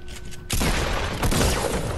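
Sniper rifle fire in the Fortnite video game: a loud broadband blast bursts in about halfway through, followed by a second crack a moment later, sustained and dense with no voices.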